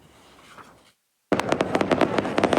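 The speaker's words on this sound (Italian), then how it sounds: "I fuochi d'artificio hanno chiuso la notte del 402esimo festino di Santa Rosalia" Fireworks burst over Palermo at the close of the Santa Rosalia festival, a rapid volley of loud crackling bangs following a brief silence after fading crowd noise.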